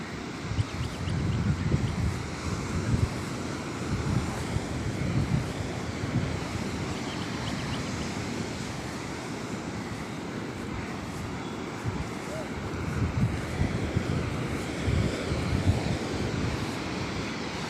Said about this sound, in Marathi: हे बघू शकता समुंदर